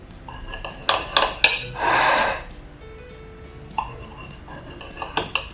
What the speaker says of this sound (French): Donc je vais couper en plein milieu.